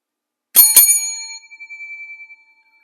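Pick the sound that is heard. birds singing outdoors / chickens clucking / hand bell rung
hand bell rung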